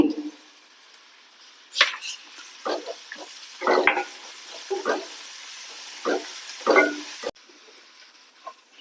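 Ginger and garlic fry in a hot pan for an Indian chana palak masala, with intermittent sizzling bursts and stirring over a quiet background.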